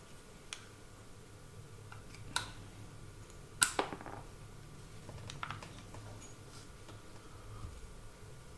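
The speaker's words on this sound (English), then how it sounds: "Punch this pin out." Steel punch tapped against a pin while driving it out of a 1911 pistol frame during hammer, sear and disconnector work: a few sharp, close metallic clicks and taps, one louder strike near the middle, over quiet room noise.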